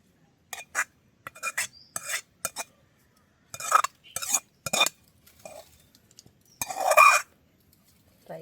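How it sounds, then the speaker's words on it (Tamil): Spoon or ladle scraping and stirring curry through cooked rice in a metal pot, in short rasping bursts with pauses, close by, with no talk. "எங்களுக்கு ரெடி ஆகிட்டு நாங்கள் இதுக்கு சோத்துக்குள்ளே சேர்த்து பிரட்டி கொள்ளுவோம்."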